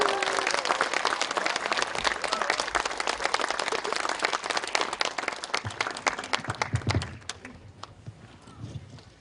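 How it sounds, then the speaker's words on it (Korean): Crowded hall audience applauds to welcome a political party leader to a peace lecture, a loud dense roll of many clapping hands that tapers off into scattered claps and room noise near the end. "박수로 맞아주십시오"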